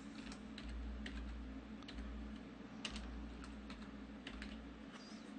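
Keys clatter on a computer keyboard while text is typed into a Photoshop document, with irregular bursts of close, crisp clicks over a low steady hum.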